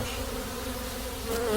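Dense buzzing of many bees surrounding the listener, a steady close drone with no talking.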